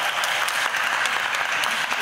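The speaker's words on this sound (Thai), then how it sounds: "ขอเสียงปรบมือต้อนรับพี่จิตวสุขแสงสีแก้วนะครับ" Steady, dense applause from a crowd welcoming a guest at a classic car exhibition opening, sustained and even for the whole stretch.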